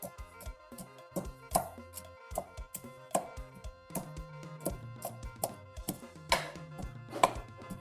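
A knife slices and chops food on a board for a home-cooked meal, with a steady run of sharp cutting strokes and knocks close by and no talking.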